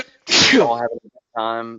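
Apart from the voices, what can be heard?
sneeze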